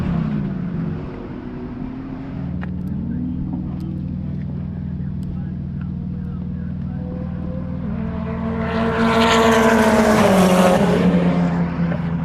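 Race cars circle a damp track at a NOLA road course event, engine drone steady and moderately loud, swelling as a car draws nearer near the end; no talk.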